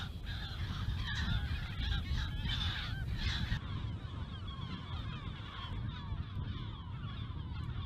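A colony of marine gulls calling on an island in the Ria Formosa lagoon, with many overlapping harsh cries and honks over a steady low rumble of wind or surf.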